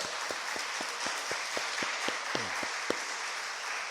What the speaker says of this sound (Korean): 인사하고 들어갈 때 여러분 크게 박수해 주시기 바랍니다